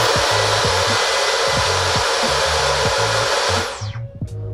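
A Dyson V15 Detect cordless vacuum runs on boost mode, a loud, steady high-pitched whine with intermittent clicks, switching off near the end and spinning down.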